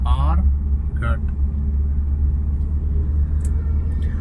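A car engine rumbles low and steady as it pulls gently away in first gear after the clutch is released in city traffic during a driving lesson, with an instructor talking over it.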